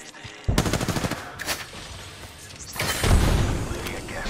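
Automatic gunfire in the video game Apex Legends: rapid bursts of shots with booming impacts, loud and close, coming in two clusters with a busier, heavier stretch near the end.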